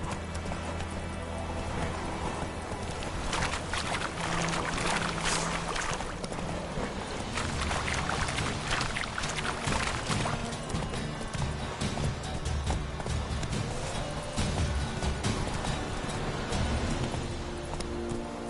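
Hoofbeats of Roach, the horse in The Witcher 3, clip-clopping at a steady gallop, continuous and fairly close throughout, with a busy game soundscape layered underneath.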